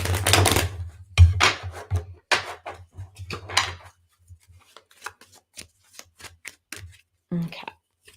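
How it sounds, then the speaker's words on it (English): Playing cards are shuffled for a card reading in sharp riffling bursts, then quieter scattered taps and flicks as the deck settles. "Let me get a good shuffle."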